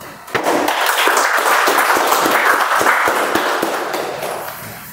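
An audience at a Toastmasters meeting claps together in a sustained burst of close, dense applause with sharp individual claps standing out, fading slightly toward the end.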